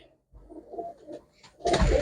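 A pigeon with a red neck coos softly at close range in a few low, throaty phrases, followed by a louder rustling burst at the end.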